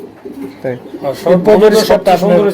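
Pigeons coo low and close at a pigeon farm, a soft murmur first heard alone before a voice begins speaking loudly over it.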